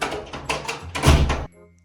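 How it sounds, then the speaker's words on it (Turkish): An indoor door is pushed shut during a children's play scene: several dull knocks and bumps build to a heavy closing thunk, followed by a short quiet and a faint final tap. "Kapat kapıyı anneciğim."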